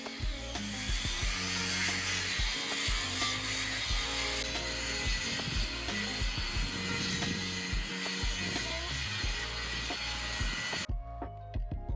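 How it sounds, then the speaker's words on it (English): A continuous harsh grinding whine of an angle grinder's resin sanding disc cleaning steel, loud and steady, until it abruptly stops near the end. "using the angle grinder with a resin sanding disc to clean the areas where we will be welding in the drip edge"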